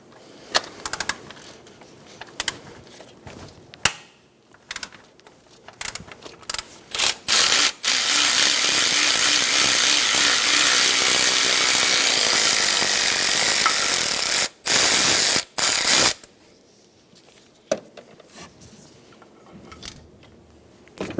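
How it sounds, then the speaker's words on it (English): A ratchet and 14 mm socket work on the timing belt tensioner of a 2010-2014 Subaru Outback, giving sharp metallic clicks and clinks, then a long steady loud whirring burst, followed by scattered taps and clatters. "Using a 14 millimeter socket, we're going to remove the timing belt tensioner."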